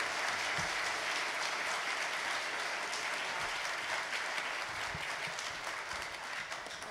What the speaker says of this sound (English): Maybe a round of applause for our panelists.